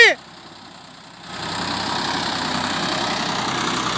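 A Ford 3610 tractor engine idles loudly up close, its steady rumble rising a little as it is revved, with a brief chirp at the very start and no talk.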